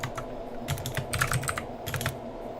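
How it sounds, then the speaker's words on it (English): Rapid clicky keystrokes on a mechanical keyboard fitted with Gateron blue switches, bursts of close, crisp clacks in an irregular typing rhythm with no voices. "I have a mechanical keyboard with like Gateron blues, so if you can hear a really clicky noise, that's why."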